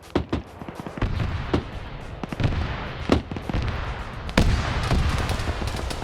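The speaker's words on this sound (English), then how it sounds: "now you're hearing the gunfire starting to die down a little bit" Gunfire and explosions in a military video game battle, with sharp cracks and heavier booms that come irregularly over a steady rumbling background, some shots close and loud.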